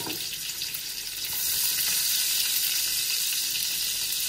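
Onion frying in fat in a pan gives a steady, close sizzle that swells louder partway through and holds, with no voices.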